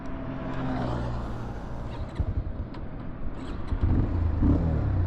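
A Bajaj Pulsar 220F motorcycle being ridden, with a steady engine drone and wind rush that rises and throttles up toward the end, heard close and loud with no talking.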